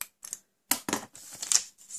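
Scissors snipping the ends off a piece of card for a centre-step easel greeting card, a few short crisp cuts close up, with quiet gaps between them.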